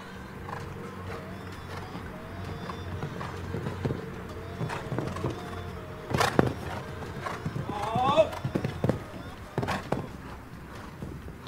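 Horse hooves clip-clop across the ground at an FEI Olympic qualification show jumping event in Valkenswaard, a series of moderately close, irregular thuds with a few sharper knocks, heard under continuous commentary speech and arena noise.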